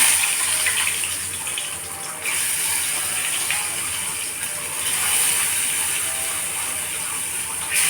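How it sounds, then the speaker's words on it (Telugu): Stuffed okra (bendakaya) dropped into hot oil in a pan over a medium flame, giving a loud, steady frying sizzle that continues with no talking. "ఇప్పుడు బెండకాయ వేస్తున్నాను."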